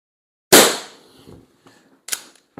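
One sharp, loud shot from an SMK Victory CP2 .177 CO2 air pistol without a silencer cracks close by and fades quickly, followed by a couple of faint clicks and a smaller snap.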